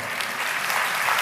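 Audience applause during a Telugu Christian sermon: dense, steady clapping from a crowd fills the whole moment at an even, moderately loud level.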